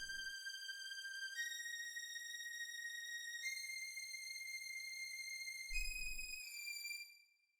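High synth legato strings from the Expand 2 plugin in FL Studio hold sustained, pure notes that shift pitch a few times, playing steadily alone for several seconds before fading out.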